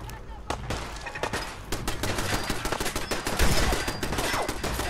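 Gunfire in Fallout 4 rattles in rapid, repeated shots, close and continuous like a fusillade, with a voice talking faintly underneath.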